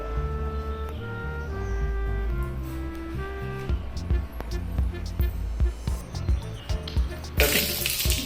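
Water poured through a sieve during a primary school science demonstration splashes and trickles under steady background music, swelling into a louder, rushing burst near the end.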